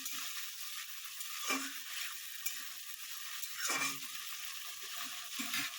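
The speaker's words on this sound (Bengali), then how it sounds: "আমি এটাকে একটু লাল লাল করে ভেজে নিই।" Prawns fry in a pan toward a reddish colour, a steady hiss of sizzling oil broken every couple of seconds by stirring scrapes, close and moderately loud with no talk.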